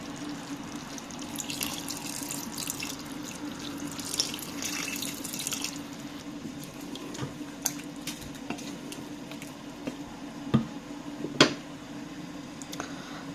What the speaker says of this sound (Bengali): তো একটু পানি দিয়ে দিব।